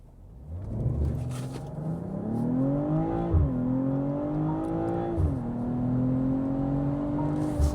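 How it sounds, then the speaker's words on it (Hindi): A 2026 BMW M340i launches hard, its exhaust note climbing loudly up close, dropping at two quick gear changes and rising again, a throaty, continuous roar with no talking. "जो एग्जॉस्ट सिस्टम से साउंड आता है ना, that is the best music system"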